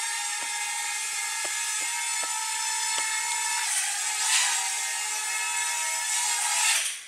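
Propellers of a SIMREX X300C drone whine steadily and close up as it lands, a high multi-toned buzz that dips in pitch midway and rises again, with a few faint clicks early on.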